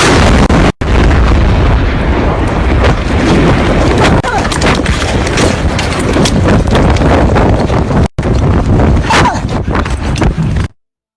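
Footage of the Apiate explosion carries a loud, sustained roar of blast noise that fills the whole stretch, with two brief cuts in the sound, before it drops suddenly to silence.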